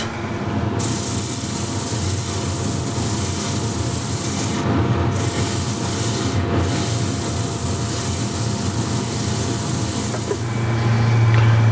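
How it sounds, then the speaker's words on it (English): Sandpaper rubs steadily over a turned wooden bowl with a V-groove cut near its foot, a continuous loud broadband scratching that runs without pause and swells slightly toward the end. "just sand this and oil it"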